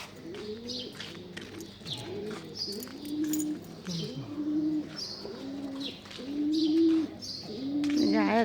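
Pigeons coo on a rooftop at dawn, repeated soft rolling coos close by with scattered chirps from other birds in the background, no talking.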